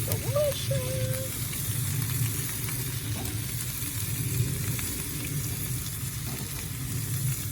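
Steady frying sizzle of meatballs in a pan, a continuous crackling hiss with faint clinks and brief voice-like tones over it.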